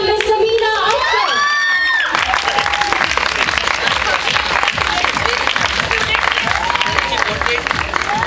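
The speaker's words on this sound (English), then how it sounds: "big round of applause" A school award ceremony audience at Lords School bursts into applause, cheers and children's shouts, swelling after a voice speaks at the start, then a busy, sustained roar of clapping and whoops with a voice surfacing intermittently.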